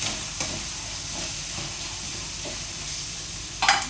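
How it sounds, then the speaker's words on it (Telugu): Coconut paste for a fish iguru sizzles steadily in a hot pan with a soft continuous hiss, broken by a few light scrapes of stirring and a louder clatter near the end. "ఇప్పుడైతే కొబ్బరి పేస్ట్ వేస్తున్నా."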